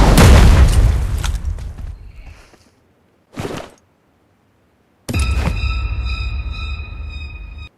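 A grenade explosion in PUBG Mobile during a Halloween tournament match: a loud boom at the start that fades, a short thud, then another heavy blast with ringing tones trailing off.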